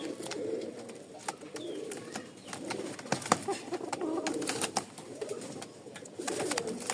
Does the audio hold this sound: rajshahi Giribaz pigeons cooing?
yes